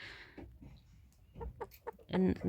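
Hens in a backyard flock, including Faverolles and Chinese Silkie chickens, give soft clucks and short calls near a person speaking, ending in a louder burst of clucking.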